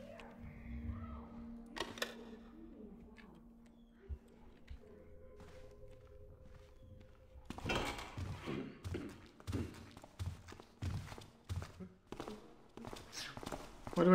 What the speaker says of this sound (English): Why do I hear dog footsteps now?